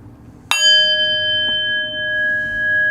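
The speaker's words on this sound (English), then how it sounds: "in just a moment I will ring the bell, ending our first round of meditation" A meditation bell struck once, a bright, clear ring that sustains and slowly decays, with a faint second tap partway through.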